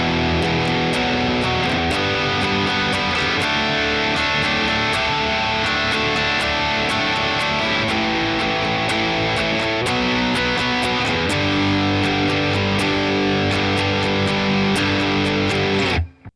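Distorted electric guitar power chords from the bridge of a song, steady and dense with a held, ringing sustain, played loud and alone until the final chord cuts off.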